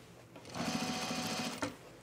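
A sewing machine stitches a shirt seam in one steady, close, humming run lasting over a second, with a rapid mechanical pulse, then stops abruptly.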